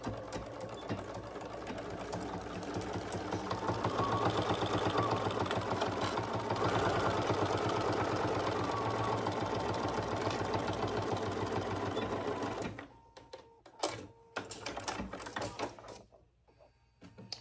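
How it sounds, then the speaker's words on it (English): Sewing machine running a steady, fast stitch along the seam of a fabric divided basket, loud and continuous for about twelve seconds before stopping, followed by a few quieter handling clicks and bumps. "See if we stitch like this."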